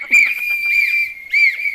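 A whistle is blown loudly again and again, making long piercing tones in three bursts with brief breaks, with no voices over it.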